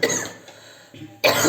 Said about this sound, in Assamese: কাহে পালেও